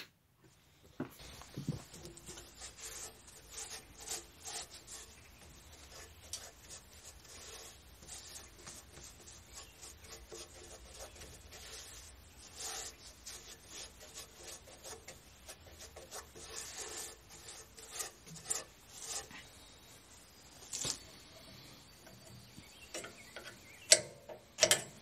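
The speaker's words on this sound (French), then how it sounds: "Je prends le temps de frotter les straps un peu pour enlever ce qui est resté collé dessus" Snowblower straps on a 7 hp HM122 being rubbed by hand to clear stuck-on residue, a steady scratchy scrubbing with rasping strokes and scattered clicks and knocks, close by with no talking.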